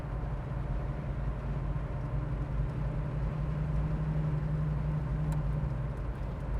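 A 1967 Chevrolet Chevelle SS convertible's engine running steadily, a low, even, continuous hum heard alone and moderately close, with no revving or change in pitch.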